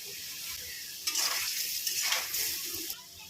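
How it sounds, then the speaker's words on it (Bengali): Potatoes seasoned with salt and turmeric fry in hot oil with a continuous close sizzle, swelling into louder hissing bursts as they are stirred. "আলুগুলো ভাজবো, একটু লবণ দিয়ে দিলাম, একটু হলুদও দিয়ে দিলাম"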